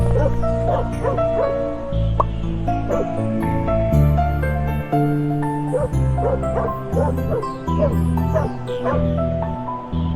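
A dog barks and yips in short repeated bursts with whimpering between them, for a Ukrainian folk tale about a dog, set over a steady, loud bed of music with no voices.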